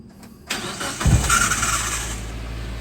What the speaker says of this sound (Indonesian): Coba kita hidupkan mesinnya.